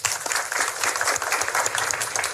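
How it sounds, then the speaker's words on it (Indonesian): An audience at a training event applauds, a steady wash of many hands clapping close and fairly loud for the whole stretch, with no speech over it. "sekali lagi kita beri tepuk tangan yang meriah untuk orang-orang hebat yang ada di sini"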